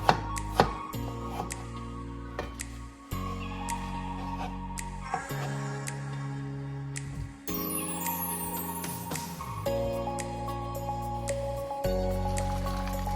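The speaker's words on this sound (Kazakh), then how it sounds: "Картоптарымыз тез пісу үшін картоптарды жіңішке етіп турап," Potatoes being sliced thinly on a board and dropped into a bowl, with a run of crisp knife chops and soft wet squishes, close and clear with no talking.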